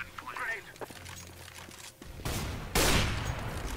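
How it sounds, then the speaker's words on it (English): Gunfire in the CS:GO video game, a burst of automatic shots through smoke in a match; loud, clustered reports in the second half, with game sounds and a player's voice before them. "Tries to shoot through the smoke."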